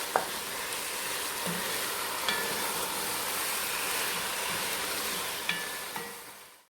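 Tomatoes fry in a pan for chicken curry with spinach, giving a steady, even sizzle broken by a few soft knocks as they are stirred now and then.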